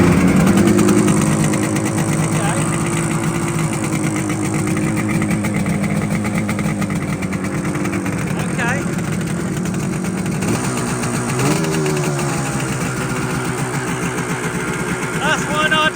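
Yamaha RD400 two-stroke motorcycle engine running close by, a steady buzzing idle with occasional blips in pitch, with people talking over it.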